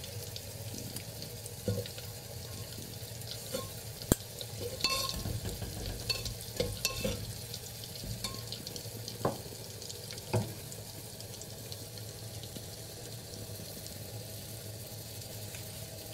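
Mustard seeds, asafoetida and turmeric frying in a clay pot, giving a steady low sizzle with scattered faint pops and crackles, along with a few soft stirring scrapes, close by with no talk.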